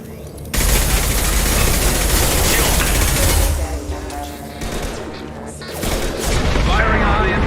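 Rapid, heavy gunfire from a Mass Effect 2 firefight rattles on nearly the whole time, loud and dense, easing briefly midway before surging again, with squad voices calling out over the shooting.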